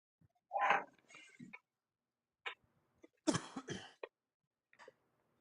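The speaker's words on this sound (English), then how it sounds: "He was coughing." A short burst of harsh coughing, a pause, then a louder, raspier fit of coughs with a couple of faint hacks trailing off; close and alone.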